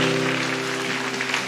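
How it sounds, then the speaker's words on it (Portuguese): A church congregation applauding, a dense, steady wash of clapping from many hands, loud and sustained for the whole moment with a low hum beneath it. "Você pode aplaudir o Senhor?"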